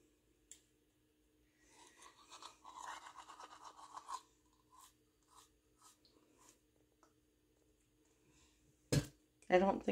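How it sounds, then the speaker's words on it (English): Toothbrush bristles scrub teeth in soft, rapid rasping strokes, close and quiet, with intermittent pauses and short brushing bursts, followed by a louder clatter near the end. "You have to brush for 2 minutes."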